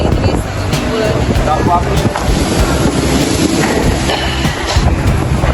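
A busy fish auction harbour at Lampulo, Banda Aceh, with fishing boats moored, loud steady wind buffeting the microphone over a dense wash of engine and harbour noise, with people talking in the background.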